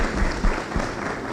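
Applause from the audience at a public forum on implementing the Right To Information Act, a steady clatter of many hands clapping together in a hall, brief and fairly even throughout.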